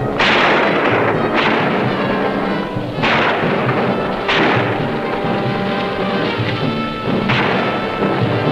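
Artillery and gunfire in a 1960 war film about a ski troop attack: five or six heavy, booming blasts at irregular intervals, each with a long rumbling decay, over a constant loud battle din.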